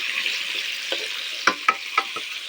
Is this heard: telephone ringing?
no